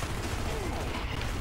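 Sustained battle gunfire in the Xbox 360 game Gears of War 2, a thick, loud wash of shots and combat noise running unbroken throughout.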